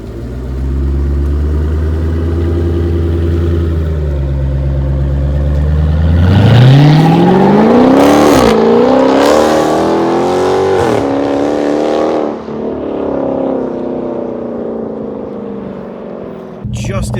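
A car running 295-width tires accelerates hard with wheelspin, the engine note climbing and revving loudly up close in rising surges before easing off near the end.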